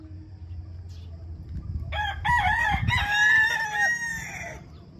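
Pet chickens in a backyard, with a rooster crowing loudly and clearly in the middle of the clip over a steady low background of soft clucking and farmyard noise.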